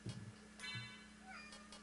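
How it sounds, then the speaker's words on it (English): A kitten meows faintly in a room over quiet video game sounds. There are a couple of short, soft, tonal mews at a distance. "Yeah, I hear you back there, kitten."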